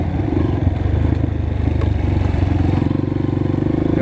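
Honda CRF 230 dirt bikes accelerate along a hilly trail, their engines droning loud and close with a rough, pulsing rev, plus a faint clatter of the machine over the ground and no talking.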